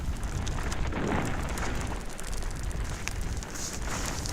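A campfire burns at night on a hill in the Mongolian taiga, a steady broadband roar and crackle filling the scene without pause, loud and close.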